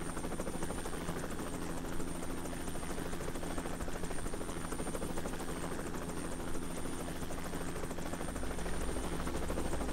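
Steady, loud helicopter rotor and turbine drone from the Arma 3 video game, continuous and close with no talking over it.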